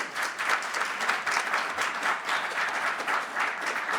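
Sustained applause from a committee meeting audience fills the room at steady volume, a dense wash of many hands clapping with no break and no voices standing out.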